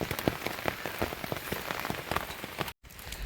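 Rain at Vandri lake in Palghar, steady close patter of drops striking a surface with dense irregular ticks, briefly cutting out near the end.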